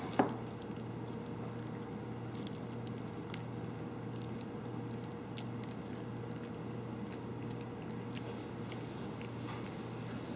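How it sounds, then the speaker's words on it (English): Hands patting a soft mayonnaise and cheese mixture down into a tomato pie, giving a steady run of quiet, wet squishing pats over a low background hum, with no talking. "get them to pat the cheese down in there"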